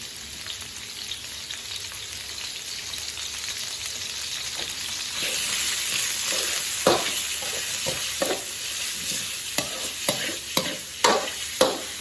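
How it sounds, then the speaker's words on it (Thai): Pork belly stir-fried in a pan with a little oil, a steady sizzle with a scraping spatula that grows busier toward the end, several sharp knocks against the pan, no voices. "หมูนี่เราจะคั่วมันออกเหลืองสักหน่อยนะครับนะ ใส่หมูของเราลงไปครับ"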